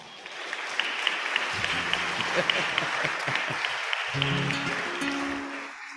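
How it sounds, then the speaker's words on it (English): Guests at an anniversary dinner applaud, a fairly soft, sustained patter of many hands that rises and falls while voices and tones break through in the middle and near the end. "Give yourselves a big round of applause."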